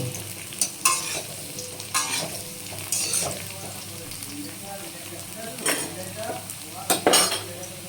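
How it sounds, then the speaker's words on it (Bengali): Papaya pieces drop into a pan of frying potatoes, setting off a steady sizzle while a spatula stirs and scrapes in intermittent bursts close up, with someone talking quietly at times. "পেঁপে টুকরোগুলো দিয়ে দিলাম।"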